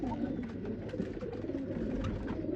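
Anbar pigeons coo softly and steadily in a loft, low rolling calls overlapping one another at close range with no talk.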